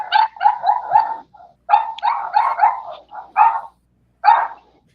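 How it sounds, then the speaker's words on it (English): Dogs barking in quick, close bursts of several barks each, separated by short pauses, loud and clear with no other sound around them. "Dogs are going ape shit."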